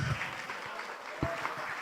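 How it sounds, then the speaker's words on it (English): Applause from an audience, fairly faint and steady, with a couple of louder thumps and some background murmur. "Come on, big hand of applause."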